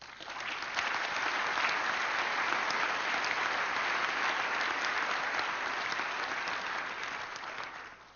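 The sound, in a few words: audience applause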